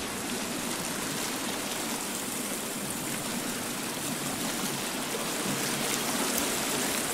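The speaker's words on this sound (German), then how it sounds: "Man sieht den Wasserfall kaum, aber man hört ihn." A waterfall in the video game The Forest rushes as a dense, steady roar of water, unbroken and fairly soft, with no voices.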